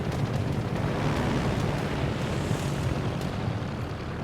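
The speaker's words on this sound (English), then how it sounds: "New flight with torpedoes." Torpedo-carrying aircraft in World of Warships, launched from the German carrier Rhein, fly past as a steady broad roaring drone with wind-like rush. The level holds even throughout, with no talk over it.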